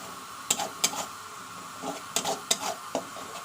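Ginger garlic paste sautés in a pan with a low sizzle, broken by sharp spoon knocks and scrapes against the metal at irregular intervals; no one speaks.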